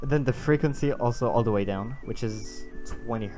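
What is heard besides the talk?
No everyday noises stand out.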